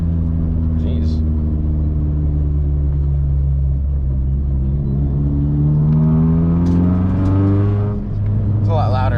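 Car engine droning loudly inside a stripped-out cab with the trunk contents removed, a heavy steady rumble whose pitch rises as the car accelerates, filling the cabin without pause.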